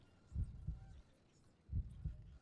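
Two pairs of low, thudding heartbeats pulse faintly and evenly as an in-game effect in the video game Sorcery!, a lub-dub pattern repeating about once every 1.3 seconds over a quiet background.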